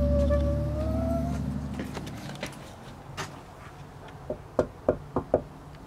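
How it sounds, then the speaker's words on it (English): Four sharp knocks on a door come in quick succession toward the end, after a low vehicle-like hum and scattered thumps earlier. "Do the knock."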